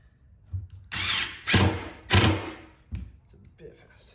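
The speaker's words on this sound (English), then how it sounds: "Put a screw in, now that you got it. These are just 1/4 inch screws." A power drill drives 1/4 inch screws into wood while a goat milk stand is built, giving several short close whirring bursts with gaps between them and someone talking around them.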